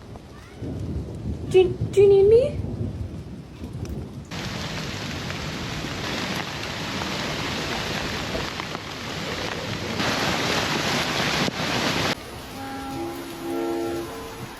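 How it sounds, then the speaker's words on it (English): Thunderstorm with heavy rain, a dense, steady wash of rainfall and low rumbling that swells and fades, with a few spoken words and a cat's cry near the start. "are you scared of the thunderstorm?"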